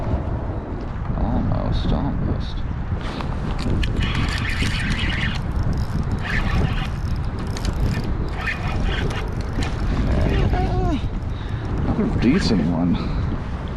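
Strong wind roars over open water around a kayak while fishing near New York City, a constant loud buffeting rumble across the microphone, with someone talking briefly over it.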